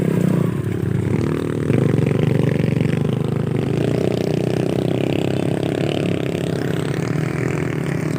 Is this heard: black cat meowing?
no